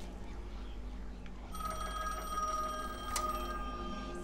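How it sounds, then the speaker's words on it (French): An unconnected telephone rings faintly in The Medium video game, a thin metallic trill starting partway through and continuing over a quiet, hissy room ambience. "le fameux téléphone non connecté qui sonne"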